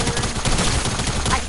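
A sniper rifle fires in a console shooter game. Dense, loud bursts of gunfire and impacts fill a short moment, with the game's mix busy around them.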